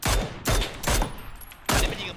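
Gunfire in the video game PUBG: three loud bursts of rapid shots, close and sharp, separated by brief pauses, with no talking over them.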